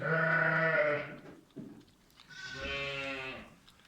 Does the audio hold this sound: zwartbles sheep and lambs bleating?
yes